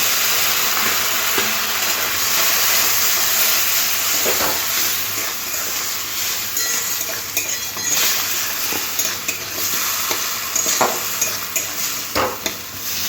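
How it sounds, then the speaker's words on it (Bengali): Potato cooking down with chilli powder, coriander powder and a splash of spice-soaking water in a pan, a steady close sizzle with repeated scraping and clinks of a utensil stirring throughout, no voices. "মশলা ধোয়ার জলটা দিয়ে খুব ভালো করে কষে নেবো"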